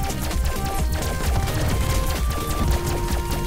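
Rapid gunfire from the video game Starward Rogue crackles continuously over a dense, loud mix of game music and effects, with steady sharp bursts filling the short stretch and no speech.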